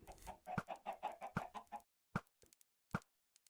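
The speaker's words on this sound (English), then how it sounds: "How many chickens do you think Farmer Tyke will hatch in the next 10 seconds?" Minecraft chickens cluck in a rapid, close burst of repeated clucks, then a few sparse, sharp clucks and plops after a brief silence, quiet overall with no talk.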